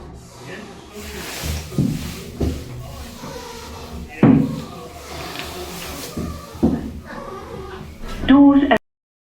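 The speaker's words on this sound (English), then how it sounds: "Doors open." Slow old lift at Frenchgate Shopping Centre in Doncaster with two-speed doors, giving a few clunks and knocks as the doors slide open, the loudest near the end, under a voice talking throughout.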